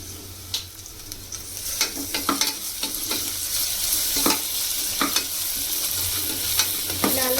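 Large-cut onions frying with a little ginger-garlic paste for Andhra-style gongura pulao, a steady close sizzle broken by regular sharp scrapes and knocks from the stirring spoon.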